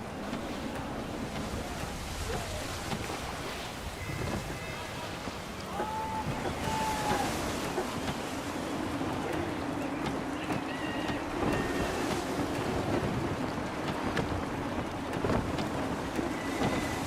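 A sailing ship pushing through waves in gusty wind in the video game Assassin's Creed 3, a steady roar of surf and wind with creaks and splashes, continuous throughout.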